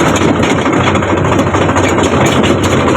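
A tractor engine idles close by outdoors, a loud steady low rumble with continuous rough mechanical chugging and no talk.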